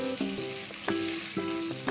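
Chicken pieces sizzle and crackle in hot frying oil close up, a dense steady hiss broken by a few soft clinks and stirring scrapes, with no voices.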